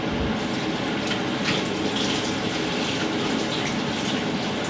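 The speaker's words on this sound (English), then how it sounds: "we're gonna wash the celery" Tap water runs steadily over celery being washed for a traditional Italian minestrone, a continuous broadband gush close to the microphone with no talking throughout.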